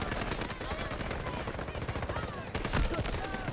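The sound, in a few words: blind fire gunshots in a Battlefield video game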